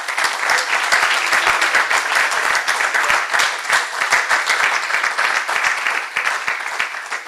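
A worship service congregation claps hard and steadily, a loud dense wall of hand claps from a crowd lasting throughout, with faint voices underneath.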